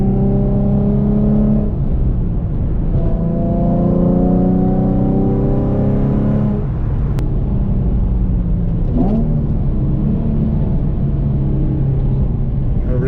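Nissan 350Z NISMO with an S-Tune exhaust and test pipes revving while driving, a loud, continuous engine drone whose pitch climbs and drops through several gear pulls, heard from inside the car with a brief click partway through.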